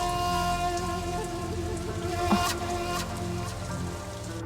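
Rain patters steadily on a surface, a continuous close hiss of drops with a brief sharper knock partway through, alone without voices.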